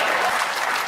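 A studio audience at a television panel comedy show bursts into loud, dense applause and cheering, a brief continuous wash of clapping.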